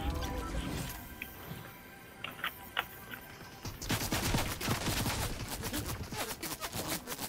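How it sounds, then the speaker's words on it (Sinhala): Gunfire in the video game Fortnite comes as a dense, loud fusillade of rapid shots, building to a sustained burst in the second half over a busy game background. "වෙඩි තියනවා නේද ඔයාට"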